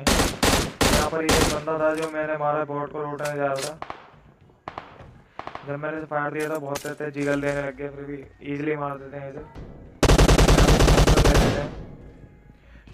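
Rapid bursts of gunfire ring out in BGMI as a player shoots a bot, a few sharp shots up front and a dense burst near the end, while someone talks over most of it.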